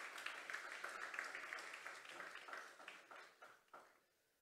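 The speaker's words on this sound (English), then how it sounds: "give the radio saxographer a round of applause again," Audience applause for a saxophonist at an awards ceremony, a fairly faint spread of clapping that fades out in a few trailing claps near the end.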